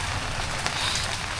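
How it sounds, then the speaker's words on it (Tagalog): Heavy rain pours steadily during a typhoon, a dense continuous hiss on a surface with no clear breaks, close and fairly loud throughout. "Oh, ang lakas ng ulan."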